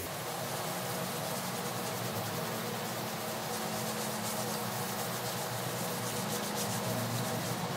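Steady, continuous sanding of pinball machine parts with 1000 grit sandpaper during a Johnny Mnemonic restoration, an even close-up rubbing hiss with no breaks or talk.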